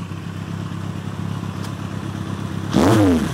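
A motorcycle engine with its exhaust baffles removed idles with a rough, throbbing putter, then bursts into a loud, raspy rev near the end that rises sharply in pitch and resonance.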